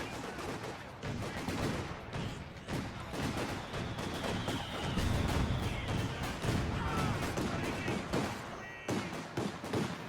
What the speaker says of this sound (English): Shots flying from the Bofors, going to be landing